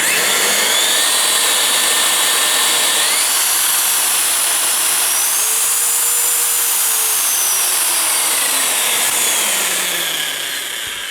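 A DeWalt DWD241 1800 W mixer drill with a 160 mm paddle runs at its lowest speed, giving a steady, loud motor whine that holds level throughout, then dips in pitch and fades slightly near the end.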